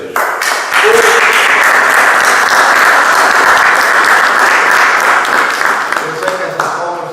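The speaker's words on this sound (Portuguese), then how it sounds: "Eu sei que essas palmas são a Coelho de Sousa" An audience in a hall claps after a sonnet reading at a centenary tribute, dense and loud applause that swells quickly, holds steady, then thins toward the end.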